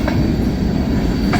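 A Union Pacific freight train passes close by with a loud steady rumble and rolling wheel noise, a short squeal at the start and end, and no voices.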